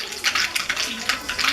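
Mustard seeds crackle and sizzle in hot oil being heated for a tadka, a steady hiss with bursts of popping at moderate loudness and no talk over it.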